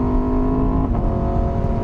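Engine of a motorcycle accelerating on a road past a Mini car, a loud, steady droning hum with a tonal whine that shifts partway through, heard close up with wind rush and no talking.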